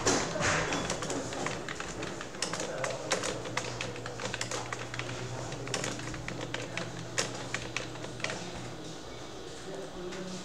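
Rapid typing on a computer keyboard while entering an address into an MS Word document, a steady stream of close, dense key clicks with occasional heavier taps, running under faint background speech.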